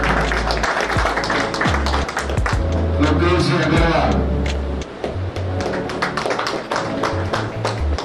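An audience claps warmly to welcome guests being garlanded at a bank-related seminar and press conference, a dense burst of applause with someone speaking over it through much of the stretch.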